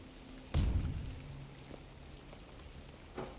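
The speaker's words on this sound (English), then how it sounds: "It's raining." Steady rain hisses in the background of a Resident Evil-style video game map while a dull thump lands near the start and a fainter knock follows later.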